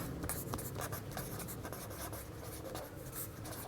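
Steady handwriting scratches from a teacher writing out an organic chemistry example, continuous close strokes and rubbing with no talk.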